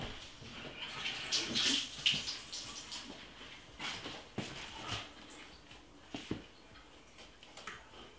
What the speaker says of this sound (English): Let's wash that mango.